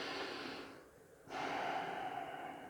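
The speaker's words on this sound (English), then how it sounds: "All right, let's take one more big breath here." A deep breath is drawn in and let out during an energizing yoga class, a close, airy inhale and long exhale with a short pause between.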